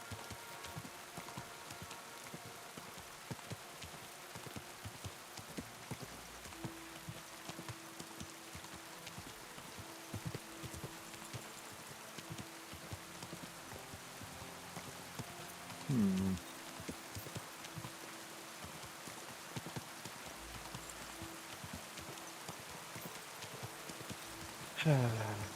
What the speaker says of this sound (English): the sound design's pretty cool for rain